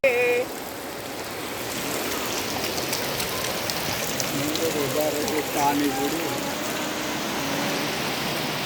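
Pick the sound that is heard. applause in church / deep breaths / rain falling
rain falling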